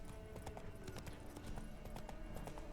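Roach, the horse in The Witcher 3, gallops with rapid rhythmic hoofbeats clip-clopping steadily at close range, joined by faint snorts and ambient game sound.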